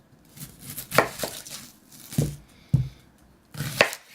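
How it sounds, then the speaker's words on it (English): A knife chops the ends off an onion on a cutting board: four or five sharp, close thuds spaced unevenly, with quiet rustling between them and no talking. "Easiest way would be to cut off the ends."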